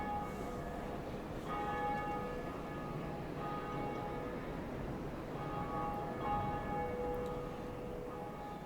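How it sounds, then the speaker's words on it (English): A large bell rings at Sen's Fortress in Dark Souls, several resonant tolls spaced a few seconds apart, each lingering with a long ringing decay at a moderate distance. "Now someone else gets to hear me ring the bell."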